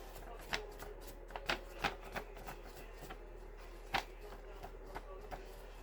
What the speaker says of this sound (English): I'm going to fold it in half again.